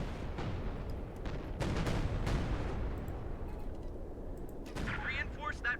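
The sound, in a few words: machine gun fire in video game Company of Heroes 2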